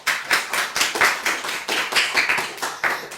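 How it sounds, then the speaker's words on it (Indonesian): Classmates clap for a student group after its presentation in a classroom, a small group's sparse, uneven handclaps close by, with no talking. "Silakan beri tepuk tangan dulu."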